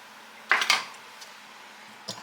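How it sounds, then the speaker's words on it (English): A metal lid clatters onto a cooking pot set to boil in a home kitchen, giving two quick clinks close together and then a softer clink a moment later. The sounds are near, there is no talking, and the room is otherwise quiet. "I'm going to put a lid on that."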